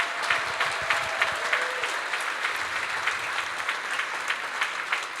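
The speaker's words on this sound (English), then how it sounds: "Can you guys give them a big round of applause?" Sustained audience applause at a city State of the City address, steady dense clapping throughout with a faint tone early on and no talk over it.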